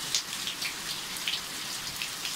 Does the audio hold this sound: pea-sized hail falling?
yes